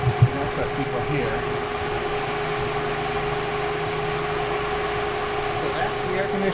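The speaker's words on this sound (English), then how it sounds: "So that's the air conditioner running." A 12 volt air conditioner running outdoors gives a steady, moderately loud mechanical hum with a fixed tonal whine and a low fan drone. It holds constant throughout with no one speaking.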